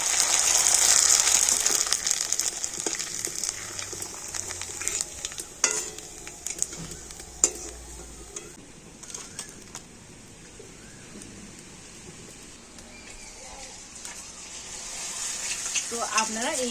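Papad frying in hot oil crackles in a dense, steady sizzle that is loudest at the start, thins in the middle and swells again toward the end, with occasional bubbling pops and clatters.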